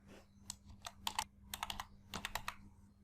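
Typing on a computer keyboard, a quick irregular run of crisp key clicks in small clusters, close and fairly quiet over a faint steady hum, with no talking.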